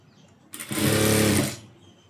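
A tailoring sewing machine stitches a button piece onto the left front of a blouse in one short burst of steady whirring, close and loud, with quiet before and after.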